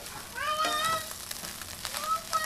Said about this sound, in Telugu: సో మనం ఫ్రై అవుతున్న నూడిల్స్ని మళ్ళీ ఒకసారి బాగా కలుపుకుందాం